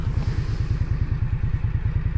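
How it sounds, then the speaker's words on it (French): An Indian Scoot Bobber motorcycle engine runs hot at low revs, giving a loud, close, rhythmic low thumping that stutters and pulses unevenly, with no talking. "Ah là on sent que le moteur est un peu plus chaud. Donc il bute un peu plus."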